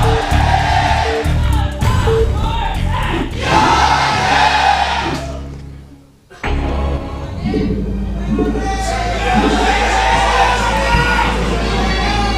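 A large crowd at a StarCraft esports league semifinal roars and cheers loudly and continuously, the noise briefly dropping away midway before surging back up.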